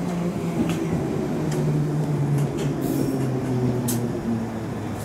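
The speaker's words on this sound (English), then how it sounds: "The train now approaching platform 2 terminates here." A London Overground or Bakerloo line train at Stonebridge Park station, a steady low rumble with a droning hum running throughout, heard up close on the platform without talk.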